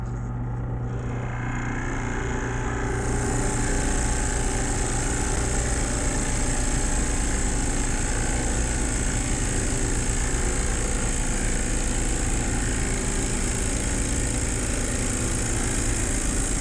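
Steady power drill boring a 1-inch hole through a wooden charcuterie board, a loud continuous whine and rumble that holds from start to finish with no talking.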